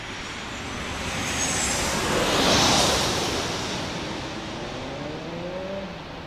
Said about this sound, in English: The taxiing 777.